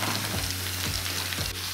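Sliced onions and carrots stir-fry with a little doenjang in a hot pan, making a steady, close, loud sizzle with faint scraping from stirring throughout.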